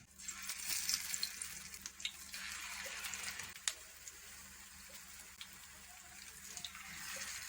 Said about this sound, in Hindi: अब जो टिक्की हमने तैयार की थी वो बेसन में डिप कर लेंगे। इस तरह पैन में डाल लेंगे।